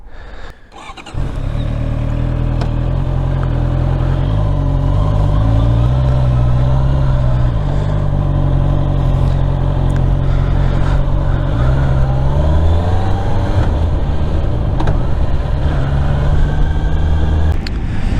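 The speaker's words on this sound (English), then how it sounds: "It's a super nice motorcycle" A nearly new Honda CBR650R motorcycle rides at night, its engine starting up then droning steadily and loudly up close, with several rising and falling pitch sweeps as it revs and shifts through gears.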